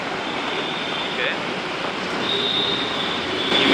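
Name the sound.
metro train at Madapur metro station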